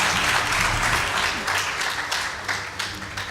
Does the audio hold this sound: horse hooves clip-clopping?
no